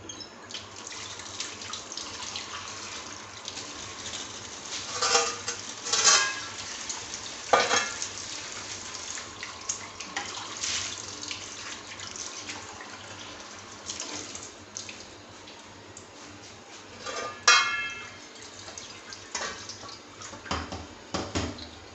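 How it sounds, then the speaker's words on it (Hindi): Water poured onto a freshly scrubbed tawa pan hisses and sizzles continuously with splashy bursts, near and moderately loud, with no talk over it. "अब हम इस पर डालते हैं पानी और चेक करते हैं।"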